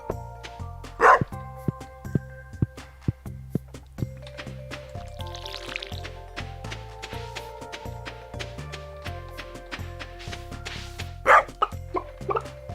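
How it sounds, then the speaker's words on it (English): A dog barks in a cozy farming video game, with repeated short cartoonish bow-wows over a plucky looping music track and soft game sound effects. "Dog."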